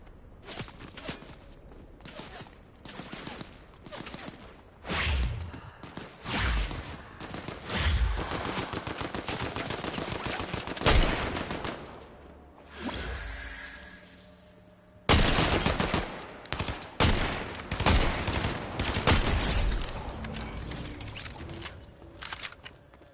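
Rapid bursts of automatic gunfire and single shots ring out in a Fortnite Chapter 5 match, volleys starting and stopping throughout with brief pauses, loud and close, with faint footsteps and mechanical clicks between.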